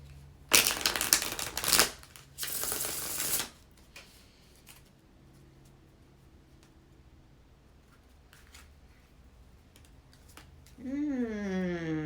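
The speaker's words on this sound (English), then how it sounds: "See those cards fall down my lap?" A few tarot cards slide and fall into a lap in two brief papery rustling bursts. A quiet pause follows, then a voice begins speaking.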